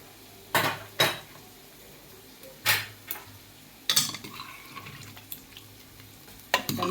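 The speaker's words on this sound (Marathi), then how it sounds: "आता इथं आपला कुकर थंड झालेला आहे. बघूया आपण ओपन करून आपल्या भाज्या शिजल्यात का." Opening a cooled pressure cooker of vegetables for pav bhaji in a home kitchen: a few sharp metallic clanks and lid knocks separated by quiet pauses, then lighter utensil clatter, close and fairly quiet.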